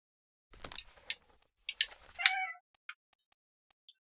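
Domestic cats meowing indoors, two or three short, close meows in quick succession followed by a few faint ticks and small clicks.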